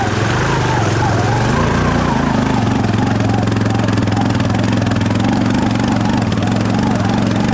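A Honda Fourtrax 300 6x6 ATV engine drones loudly and steadily at a mid-pitched idle-to-working roar while the machine digs, close by and continuous throughout.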